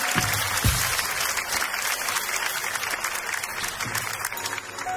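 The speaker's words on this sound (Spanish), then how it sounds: "un fuerte aplauso el para niñito, Isan." Loud, steady applause from a live audience at a comedy stage show as a small boy is called up onto the stage, dense clapping filling the whole stretch with no speech over it.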